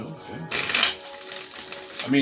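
Tarot cards are shuffled in a quick riffling burst, a brief crisp flutter of card edges, with someone speaking before and after.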